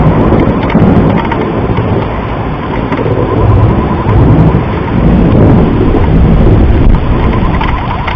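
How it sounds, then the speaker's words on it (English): A thunderstorm with pouring rain over a street lined with trees, loud and continuous, dense hissing downpour with deep rumbling thunder rolling underneath throughout. "pouring rain, and lightning is going to strike the tree they're walking beside right now"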